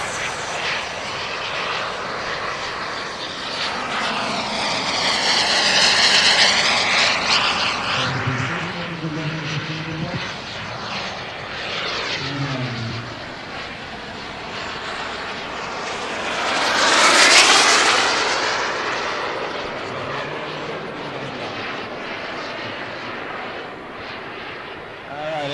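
An F-86 jet flies past at an airshow, its engine roar swelling and fading twice in long sweeping passes, loud and rushing with a strong doppler shift.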